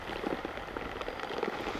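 Rain falls steadily on a disc golf course during a tournament round, a dense, even patter of drops close by with no voices.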